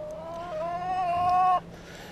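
Backyard chickens at a west Texas RV park, one bird giving a drawn-out, wavering call that rises and holds for about a second before cutting off, fairly close over a quiet outdoor background.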